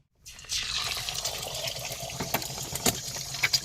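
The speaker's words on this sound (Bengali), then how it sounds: "দেখো জলটা কত সুন্দর ঝরে যাচ্ছে" Water pours and splashes steadily in a continuous rushing wash, with a few sharper drips and spatters near the end.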